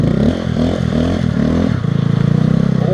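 A Honda Grom motorcycle ridden on a snowy road, its small engine loud and close, buzzing and revving in rising pulses before settling into a steady throbbing drone.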